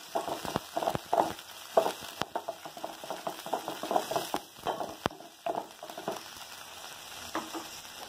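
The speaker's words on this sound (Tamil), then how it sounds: "வாணலியில் எண்ணெய் ஊற்றியிருக்கிறேன், வெங்காயம், கருகாப்பில், ஒரு மிளகாய் ஒன்று போட்டுக்கலாம்." Onion, curry leaves and a chilli sauté in oil in a wok, a soft sizzle broken by rapid, clicking spatula scrapes in irregular bursts, close by.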